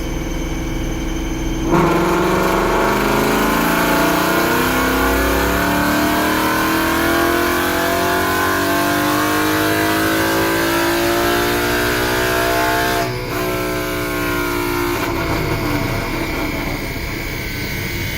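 A 2015 Ford Mustang accelerating hard with its air filter removed, the engine roaring loudly as revs climb steadily through a long pull, a brief dip at a gear change, then easing off.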